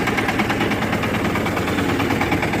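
A Shifeng 350L tractor engine runs steadily close by, a rapid rhythmic diesel chug with a hard knocking pulse at an even pace and no talk over it.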